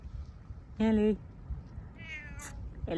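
A cat lets out a clear, close meow, followed a second later by a fainter, higher meow, with a person talking quietly in the background.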